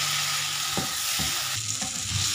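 Chicken hearts deep frying in oil, a dense steady bubbling sizzle with a few soft knocks, fairly quiet and continuous, no voices.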